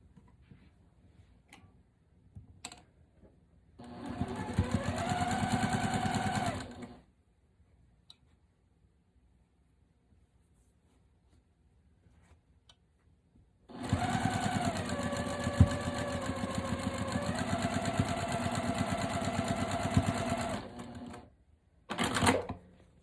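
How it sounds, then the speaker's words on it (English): A sewing machine stitches cotton quilt pieces in two sustained bursts of rapid mechanical whirring and ticking, close and steady, separated by a quiet pause with small clicks, then a short final run. "take it over to my sewing machine"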